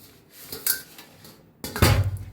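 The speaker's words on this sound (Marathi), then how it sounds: "तर इथे एक चाळण घेतलेले आहे।" A metal sieve and kitchen utensils are handled while preparing chivda, with light metallic clinks and scrapes and then a louder clattering knock near the end, close up with no talk.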